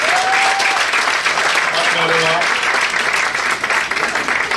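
An audience at an administrative office inauguration event in America applauds a woman in the crowd, with loud, dense, sustained clapping that fills the whole stretch and tapers slightly near the end.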